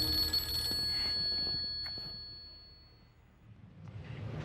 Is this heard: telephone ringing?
yes